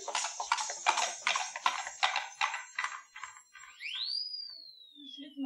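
Rapid rhythmic clip-clop of galloping horses' hooves pulling a small sleigh with jingling bells, followed by a rising then falling whistle-like tone, in a stage theater production.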